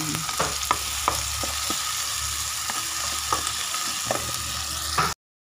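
Onion, garlic and tomato sauté in a hot pan for pucherò, giving a steady close sizzle broken by regular scrapes and taps of a stirring utensil.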